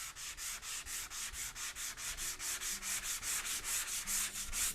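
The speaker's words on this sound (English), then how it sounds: "Now let's sand this one for the final one here." Rhythmic back-and-forth sanding strokes scrape across dried spackling on drywall, steady and close, with no voices.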